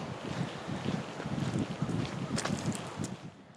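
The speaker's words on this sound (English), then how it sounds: "A little windy, off and on." Wind gusting outdoors on a dirt road beside a Florida swamp, a steady broad rush with rumbling microphone buffeting that rises and falls throughout.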